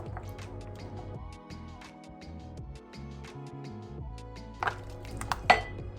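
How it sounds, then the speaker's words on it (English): A wooden spoon stirs wet cake batter of oil and egg in a bowl, giving soft, quiet, wet swishing with a few light taps against the bowl, over a faint background hum. "we're going to give all these wet ingredients a stir"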